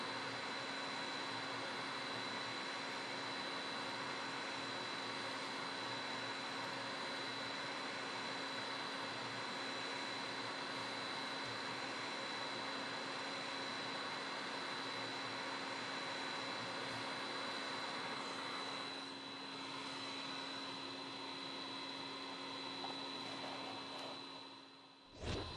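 A hot air rework station blows steadily on the charging connector of a Samsung A71 phone, a continuous airy hiss with a faint fan whine, unbroken for about 25 seconds before cutting off abruptly.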